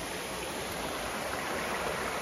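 The Chuvisqueiro river, fed by the waterfall of the same name, rushes in a steady, even broadband wash with no pauses, heard from close to the bank and without any voices.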